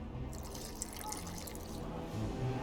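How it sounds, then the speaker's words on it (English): Water is poured into an alchemy mixture in The Witcher 2, a soft, faint trickle and splash that runs for a couple of seconds against a low hum. "A bit of water."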